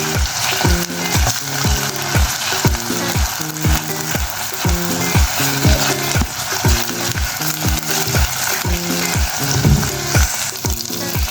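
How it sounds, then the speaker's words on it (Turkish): Steady, loud sizzling and frying fill the pan as tomato paste sautés, with regular scraping strokes of a spoon stirring through the thick mixture at a steady rhythm. "Bir yemek kaşığı domates salçası ekledim. Şimdi salçamla da kavuracağım bir süre."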